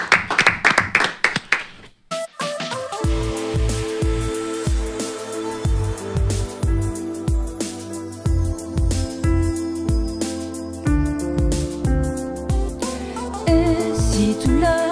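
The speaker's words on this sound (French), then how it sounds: "on pratique l'applaudissement de confiance" A studio audience in a radio music loft gives a short, dense round of clapping lasting about two seconds before a song with steady rhythmic beats takes over.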